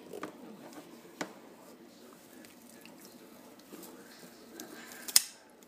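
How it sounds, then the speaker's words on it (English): Large scissors snipping wheatgrass before it goes into a Vitamix, with faint crisp cuts at a few separate moments and a sharper snip near the end, quiet and close in a kitchen. "That's because you're holding big scissors."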